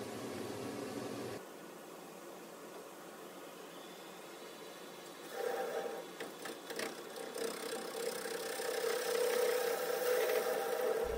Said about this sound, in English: I'm just starting out the cuts with a half inch bowl gouge